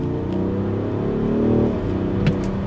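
A BMW X6 M50d diesel engine under acceleration, a steady low drone with a gentle swell in pitch midway, heard from inside or close by with no talk and a brief sharp tick near the end.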